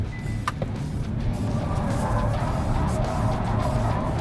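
A 2025 Hyundai IONIQ 5 N surges forward with a rising electric drivetrain whine and road rumble after both paddles are pulled, with a short clunk near the start and steady cabin noise.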